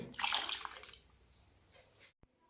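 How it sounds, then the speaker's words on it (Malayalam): Water is poured into a pot of vegetable koottu curry with a brief, soft splashing gush that quickly fades, followed by a faint clink, all at low volume with no talking. "കുറച്ച് വെള്ളം കൂടി ഒഴിക്കാം"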